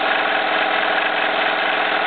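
A Jensen toy steam engine drives a small Baker fan, giving a steady, continuous mechanical whir and rattle that holds at an even, fairly loud level with no talking.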